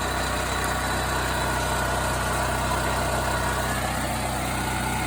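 A house backup generator engine runs at a steady idle, a continuous low rumble with mechanical vibration and a constant hum, close by and unbroken, with no voices over it.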